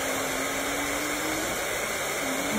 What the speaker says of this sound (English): I've got the hairdryer, just keeping him warm at the same time.